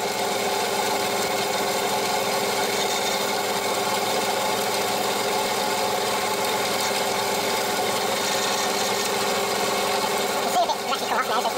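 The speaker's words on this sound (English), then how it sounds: "I'm going to buff it up medium to high speed, so I'll go about 1000 to 1500 revs" A woodturning lathe buffs a piece at medium to high speed, around 1000 to 1500 rpm, a steady continuous motor whine and hum running unbroken at close range.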